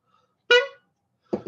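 A short cartoonish honk sound effect, standing in for a car horn, blares once in otherwise quiet math-lesson audio, followed moments later by a softer, briefer burst.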